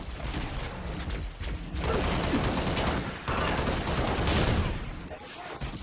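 Rapid bursts of gunfire from a weapon in the game Halo: Reach, dense crackling volleys in several runs with brief gaps, loud and close, with a voice talking over them.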